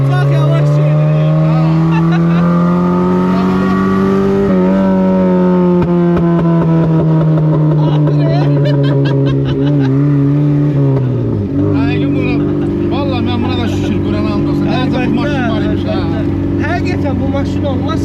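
A car engine drones loudly up close as it drives, holding a steady tone, then dropping in pitch as the driver shifts and revs again, with people talking over it.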